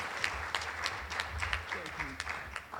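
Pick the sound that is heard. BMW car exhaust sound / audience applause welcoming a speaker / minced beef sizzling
audience applause welcoming a speaker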